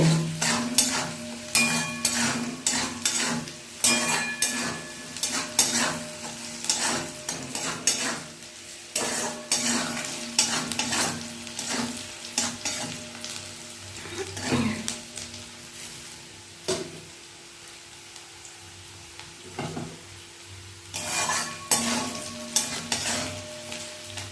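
Fish curry cooking in a pan, with bursts of sizzling frying and repeated scraping and clinking of a spoon stirring against the pan, close and fairly loud, pausing briefly midway before stirring resumes.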